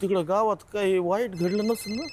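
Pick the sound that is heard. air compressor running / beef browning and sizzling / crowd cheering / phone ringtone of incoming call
phone ringtone of incoming call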